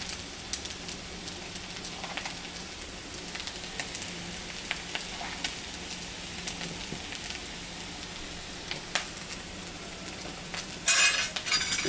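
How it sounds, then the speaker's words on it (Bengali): Soybean and egg curry sautéing with chilli, coriander and turmeric powders in a pan: a soft, steady sizzle with scattered sharp clicks and scrapes of stirring, and a louder clatter near the end. "এবার আর একটু কষিয়ে নেব।"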